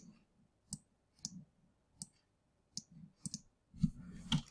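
Mouse clicks while editing a photo in Photoshop, a series of about eight sharp, close clicks at uneven intervals, growing denser and slightly louder toward the end.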